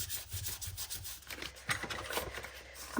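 Paper edges rubbed with an ink blending tool and Antique Linen Distress Oxide ink for a junk journal signature, giving a soft, continuous scratchy scrubbing in quick close strokes, with no talking.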